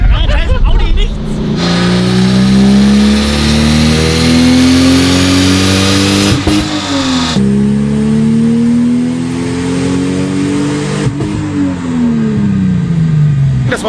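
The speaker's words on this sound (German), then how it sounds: "Das war jetzt gerade ein Fuel Cut, also heißt Sprit war weg." An Audi producing 380 PS revs hard and loud, engine pitch climbing steadily through repeated pulls until it hits the fuel cut and drops, close and sustained for the whole stretch.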